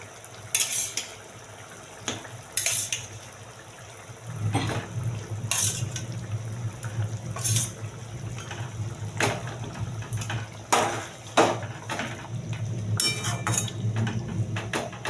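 Fried chicken koftas dropped one at a time into boiling gravy in a pan for butter chicken masala, giving a few sharp splashy clatters over a steady bubbling simmer that grows louder partway through.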